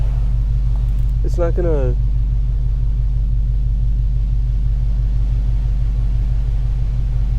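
A touchless car wash machine at work around a car, heard from inside as a loud, steady low rumble and drone throughout, with a brief spoken phrase near the start.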